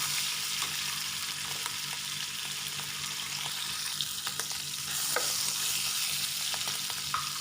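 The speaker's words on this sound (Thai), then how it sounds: "พอ กระทะเราร้อนแล้วก็ใส่หมูสับลงไปก่อนเลยนะคะ" Steady crackling sizzle of minced pork frying in a hot wok, with scraping stirs and occasional sharp pops, continuous and close.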